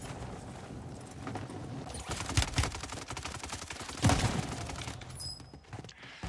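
Sniper and assault rifle fire in an online shooter video game crackles in scattered bursts, with two sharper heavy shots standing out from steady background battle noise; no talk over it.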